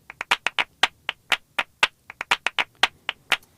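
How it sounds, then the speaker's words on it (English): Flamenco hand clapping at 120 BPM, crisp sharp claps in a lively syncopated pattern, close and dry, alone with no other sound. "So I'm going to pick a clip called Clapping Flamenco here"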